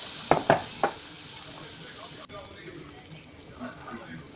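Rajma (kidney beans) dropped into frying red-chilli masala, a few sharp splashing hits and clinks of a spoon early, then softer stirring scrapes and low sizzle.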